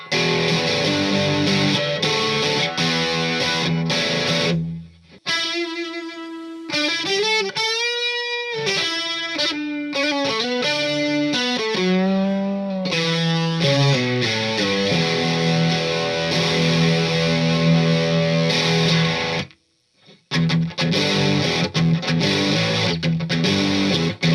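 Distorted electric guitar, a 1999 Stratocaster Deluxe through a distortion pedal, plays a solo line of bending, sustained notes with a thick, saturated tone, briefly dropping out twice before resuming.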